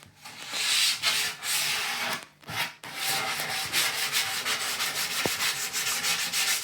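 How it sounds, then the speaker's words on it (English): Sandpaper rubbing over the freshly cut, ragged corners and edges of a workpiece in a cold northern workshop, a steady, close, scratchy back-and-forth that runs almost without a break and stands alone without talk. "we're going to just give it a sand down, just especially on these ragged corners and edges that I've just cut"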